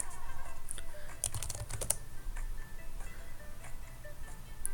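Typing on a computer keyboard to enter values for a smart car machine learning project, with a scatter of crisp, close keystrokes in an irregular rhythm over a steady background hum.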